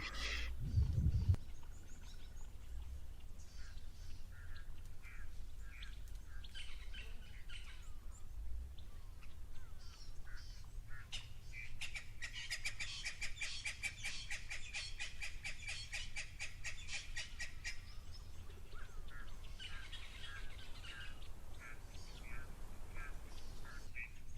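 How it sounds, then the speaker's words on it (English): Ducks and geese call at a waterhole at Tau, with Egyptian geese and red-billed teals nearby, giving scattered quacks and squawks, then a dense run of rapid chattering calls midway, over steady outdoor ambience with a low thump at the start. "And I think this is the family of Egyptian geese that are still around."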